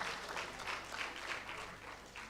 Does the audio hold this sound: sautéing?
no